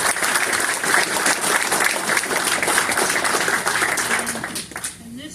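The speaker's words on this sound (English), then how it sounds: "give them a round of applause" Sustained applause from a crowd at a town council meeting, steady and fairly loud throughout, fading slightly at the end.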